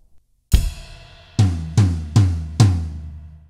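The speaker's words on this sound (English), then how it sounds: "you're gonna hit your rack tom four times" A single ride cymbal strike on a drum kit rings out, then four evenly spaced rack tom hits follow, close and loud, with the cymbal wash decaying beneath them.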